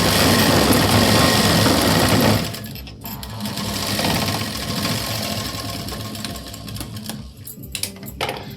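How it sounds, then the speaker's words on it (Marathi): A sewing machine stitches along the edge of thick fabric, running loud and rapid at first, then continuing more softly with short pauses and handling noise. "कडेला अशी शिलाई देऊन घ्यायची पहा"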